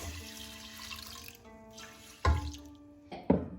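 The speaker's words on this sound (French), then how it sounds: "Après laver, on ajoute l'eau froide." Cold tap water runs into a bowl of rice for rinsing, a steady trickling stream with two louder splashes near the end, close and alone without any talk.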